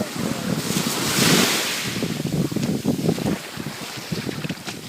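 Pacific Ocean waves and surf wash steadily near the shore at Puerto Vallarta, with strong wind buffeting the microphone and a swell of louder surf early on.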